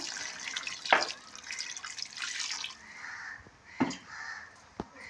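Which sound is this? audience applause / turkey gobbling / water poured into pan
water poured into pan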